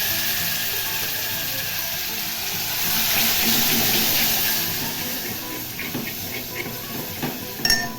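Water from a glass poured and splashing into a container to rinse it, a steady rushing stream that swells midway, followed by a few light clinks and knocks near the end.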